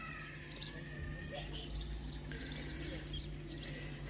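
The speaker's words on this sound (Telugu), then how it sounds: "ఆ పిచ్చుకల సౌండ్ చెవులకి ఎంత పీస్ఫుల్గా అనిపిస్తుందో" Sparrows chirp in a village on a morning at Pongal time, quick faint twittering bursts repeating over a low, steady hum of background noise.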